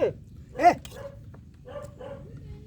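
A few scattered dog barks and yips at moderate distance, irregular and brief, with quiet gaps between them.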